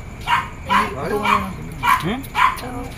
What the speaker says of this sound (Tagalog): Aso ah.